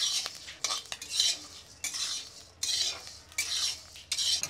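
Coriander seeds roast dry in a hot pan over low heat, stirred in quick bursts of rattling, scraping strokes with short pauses between, close and fairly loud, no voices.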